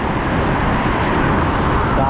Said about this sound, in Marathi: गाड्या कशा स्पीडने जात आहेत.